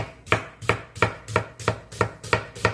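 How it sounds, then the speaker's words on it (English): Knife chopping an onion on a board, seven evenly spaced crisp thuds in a steady rhythm, close and clear with nothing else over them. "cut the onion nice and small"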